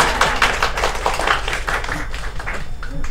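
Audience clapping at a live performance of the Total Hero Team stage show, steady scattered handclaps running throughout under music and a few vocal sounds.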